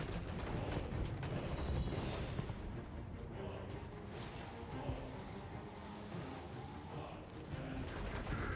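Artillery bombardment during a siege battle in Total War: Warhammer 3, a dense, continuous rumble of distant booms and blasts rolling on without pause for the whole stretch.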